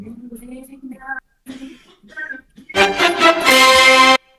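A man breaks into a harsh coughing fit away from the microphone, a few rough coughs building into a loud, sustained burst near the end, after brief murmured speech on a football preview broadcast.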